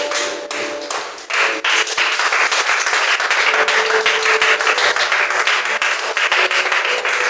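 A church congregation claps and cheers in praise during a French-language worship service, a loud, dense wash of applause that carries on steadily for several seconds.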